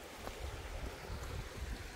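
A small stream near Silverwood Lake, California flowing in a low, steady wash of water, soft and continuous with a rumbling, slightly wind-blown character.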